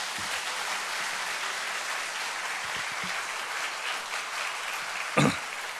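Church congregation at a Sunday morning service clapping steadily, a soft, even wash of applause with a single louder knock near the end.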